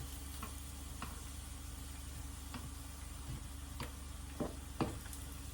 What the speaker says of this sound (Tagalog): Parang Kabitenyo style tong yung piniprito na pritong saba.